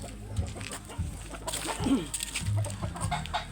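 Chickens cluck in short bursts close by, with a rustling farmyard background and no talking.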